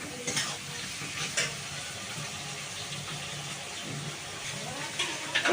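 Chili chicken fries in a pan under a steady sizzle, with repeated scraping stirs and spatula knocks at intervals.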